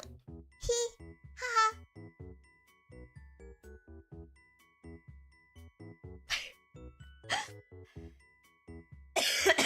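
A few sharp coughs burst out near and loud over quiet background chatter and faint tinkling, spaced irregularly through the clip.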